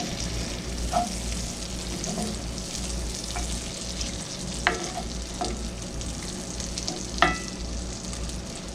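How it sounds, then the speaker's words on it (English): Onions frying in an old cast iron pan left with steak drippings and butter, a steady close sizzle throughout with a few sharp clicks of stirring; no talking. "To let those onions heat back up and infuse with all that goodness left in the old cast iron pan"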